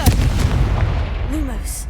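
Confringo blasting spell in Hogwarts Legacy: a heavy, close explosive boom at the start, followed by a deep rumbling tail, a short sweeping tone and a fading crackle.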